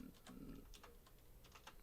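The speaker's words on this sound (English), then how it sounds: "I'm messing up my typing" Soft, rapid key clicks from typing on a computer keyboard, irregular taps scattered across the stretch, faint and close, with a brief low murmur of voice near the start.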